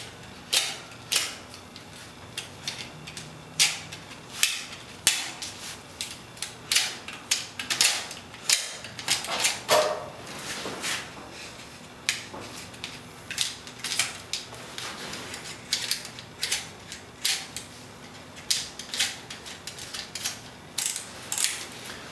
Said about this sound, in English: The next tool is going to be our razor knife.